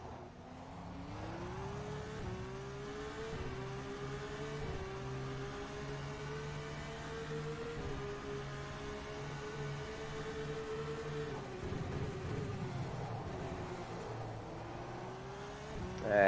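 A Formula 2 race car in the rFactor 2 sim racing game at Spielberg drones loudly and steadily, its engine pitch climbing and stepping through gear changes over a continuous mechanical roar.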